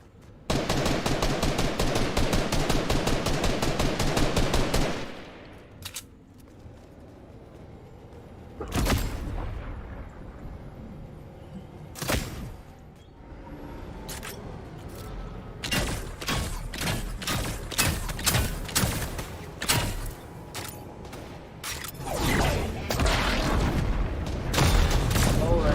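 Video game gunfire blasts at UFO saucers: a dense, loud barrage at first, then scattered single shots and booming explosions of varied strength.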